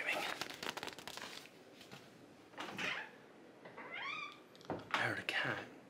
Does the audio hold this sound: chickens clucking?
no